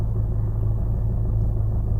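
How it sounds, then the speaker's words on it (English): A car engine idles with a possible water pump rattle, a steady close low rumble with a faint pulsing texture running unbroken throughout. "Listen, you hear that rattling?"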